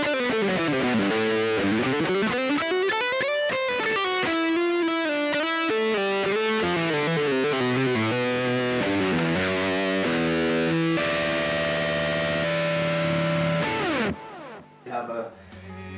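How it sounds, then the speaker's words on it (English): Heavily distorted electric guitar run through a guitar rig emulating a cranked valve amp, playing sustained chords and sweeping melodic lines, loud and continuous, ending abruptly with a brief trailing hit. "I can have that sound that you can only get by cranking the valve really hard."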